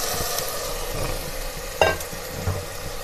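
Black-eyed peas and potatoes frying in masala and ghee for Punjabi-style aloo lobia, with a steady close sizzle and a couple of sharper stirring scrapes.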